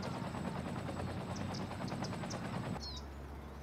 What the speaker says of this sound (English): Rescue helicopters are moving in right now.